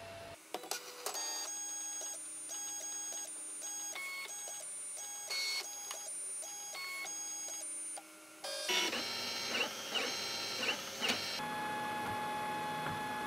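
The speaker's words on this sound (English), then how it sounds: "Now let's put in the SD card and print something, anything really." A JellyBox 3D printer runs a print job: stepper motors whine in steady stepped tones that shift pitch as the head moves, then give way to busier, rougher mechanical whirring near the end, loud and close with no talk.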